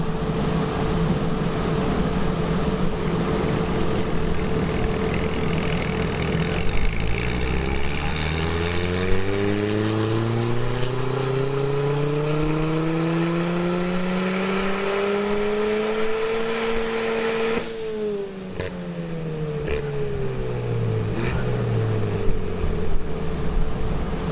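Race car engine from AET Motorsport revving hard under boost, loud and close, pitch sweeping steadily upward over several seconds, dropping abruptly, then climbing again, with no talking.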